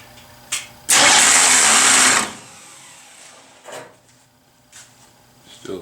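A 1973 Ford Bronco engine runs with its fan blade striking the fan shroud, heard as a loud harsh rattling burst lasting about a second and then a few fainter scraping knocks.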